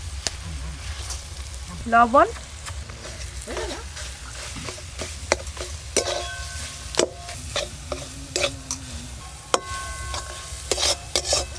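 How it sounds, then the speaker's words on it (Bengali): Ginger and green chili fry in oil in a pan, then lentil paste is stirred in, giving a steady close sizzle with scraping stir strokes and clinks. A voice speaks briefly over it. "আদা আর কাঁচা লঙ্কা কুচি হালকা করে ভাজা হয়ে গেছে। এবার ডাল বাটা পুরোটাই দিয়ে দেব।"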